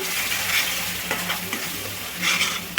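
Curd mixed with chilli powder, salt and coriander powder frying in oil for paneer butter masala, a steady loud sizzle with scraping stirring strokes throughout, no voices.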